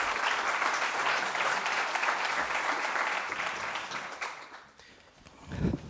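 An audience at a renewable hydrogen conference panel applauds in a sustained, even burst of clapping that fades out near the end, followed by a brief voice.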